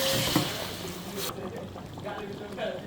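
Hot broth is poured into a rohu fish tomato curry, giving a brief, close splashing pour that stops after about a second while a voice speaks.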